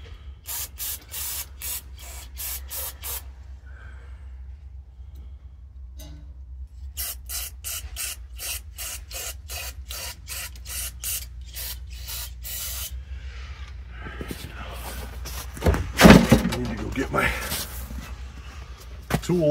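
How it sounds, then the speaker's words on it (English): Cleaner spraying into the carburetor of an old Toro snowblower that sat for years, heard as a series of short, sharp hissing bursts in quick succession, with some handling noise and a voice near the end. "Spray all that out."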